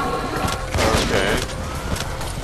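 Gunfire in the video game Painkiller Overdose sounds as a dense, loud, continuous burst of rapid shots and crashing impacts, with a swell of heavier blasts in the middle.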